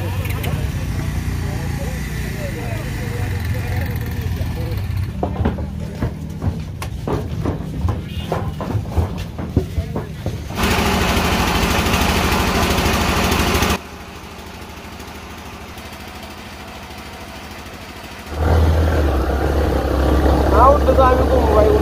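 A trawler boat engine runs steadily on the water in Sunamganj, a loud continuous motor drone that swells and drops in level across the stretch while people talk over it.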